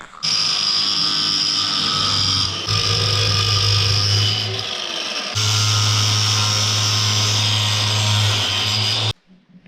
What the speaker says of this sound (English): I'm gonna grind out where I need to grind, and hopefully you can get it sit on there right the next time